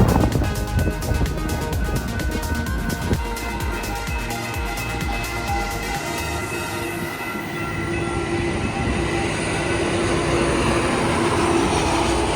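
A train rolls through a historic station, a loud continuous rumble and rattle of rail cars filling the whole stretch close by, its tone shifting and smoothing as it passes.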